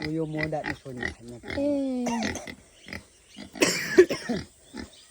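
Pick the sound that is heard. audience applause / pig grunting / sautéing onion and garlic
pig grunting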